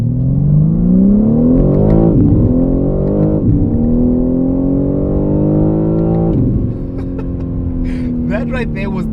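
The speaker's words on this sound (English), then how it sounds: "let's talk about the launch of this car, the 0 to 100" A 2023 BMW M3 LCI launches hard from a standstill to 100, its engine roaring loudly and climbing in pitch through several quick upshifts, heard close from inside the car, with a voice speaking near the end.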